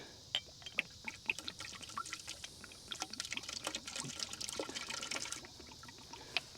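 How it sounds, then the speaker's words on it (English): Water drains out of a cylinder in an irregular pouring trickle with scattered drips and splashes, steady and fairly close, with no talking. "We're draining the cylinder, so this is probably somewhere right in here. So what's draining out is just suction of this water in here."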